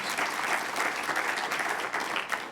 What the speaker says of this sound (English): I'd like to ask all of you to join with me in giving them a round of applause